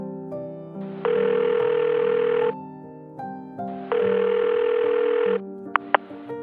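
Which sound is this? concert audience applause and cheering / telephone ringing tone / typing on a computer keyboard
telephone ringing tone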